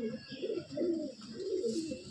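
A small pigeon coos in a loft, soft low rounded calls repeating in several phrases close by, with no speech.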